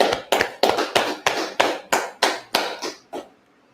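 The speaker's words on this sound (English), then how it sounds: "let's clap it up and then take the first from the top." Congregation at a Sabbath church service clapping hands together in about ten sharp, evenly spaced loud claps that slow slightly and fade out at the end, close and with no talking.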